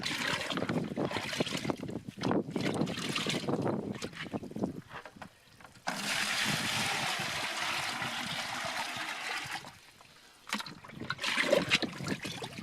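Water from a truck-mounted tank pours into a plastic trash can, a rushing, splashing stream that stops and starts, with a long steady gush in the middle before it cuts off and resumes.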